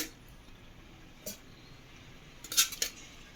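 Cooled cooked vegetables, including green chilli, tomato, brinjal and ridge gourd, go into a mixer jar for a roasted chutney, heard as a few faint clinks and scrapes of a utensil against the jar in an otherwise quiet room.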